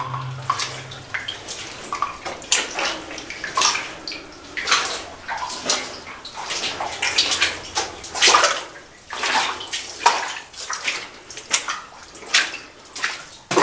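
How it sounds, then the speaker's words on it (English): Water drips from a mine adit ceiling and splashes in an irregular patter, each drop a distinct tap over a quiet damp background, fairly close. "Everything is dripping off the ceiling."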